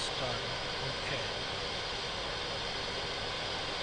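A Yak-40 jet airliner engine starts up with its air starter on, giving a steady broadband whooshing roar with a faint rising whine underneath, while a voice talks briefly.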